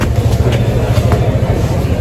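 Inside Yeshwanthpur railway station in Bengaluru, a train gives off a loud, continuous low rumble with faint rhythmic clicks, close by and steady throughout, with no one talking.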